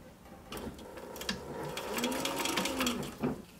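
A sewing machine backstitches over earlier stitches on fabric for a sun visor, its steady close whirring stopping and restarting in short runs with no talk.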